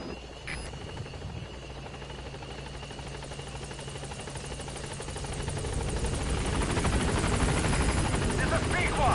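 A helicopter arrives at a landing zone in the video game Metal Gear Solid V, its rotor chop thumping steadily and growing louder as it approaches, with a voice speaking over it.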